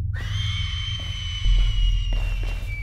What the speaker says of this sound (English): I heard that scream